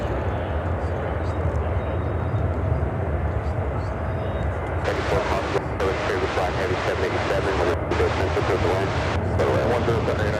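A United Boeing 767 at Chicago O'Hare gives a deep, continuous rumble at moderate level, joined midway by bursts of crackling, hissy noise that come and go over the drone.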